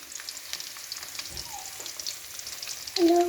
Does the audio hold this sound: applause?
no